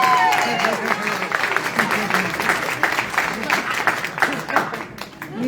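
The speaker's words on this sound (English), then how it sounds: "Can we give a round of applause to my mom to embarrass her?" Audience applause at a Ramadan crescent lighting event in Ridgefield, NJ, dense crowd clapping filling the whole stretch, loud at first and slowly thinning, with a few voices mixed in.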